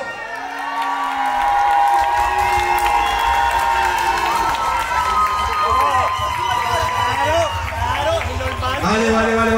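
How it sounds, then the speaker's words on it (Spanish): An audience at a dance competition final in Alicante cheers loudly, with whoops and shouting voices layered over a continuous crowd roar that stays strong from start to finish. "aplausos en esta gran final para el equipo de"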